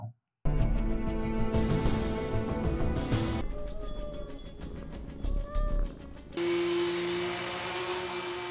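A pet cat belonging to a young girl meows over a dense musical background, its mewing rising and falling in the middle of the passage at moderate loudness.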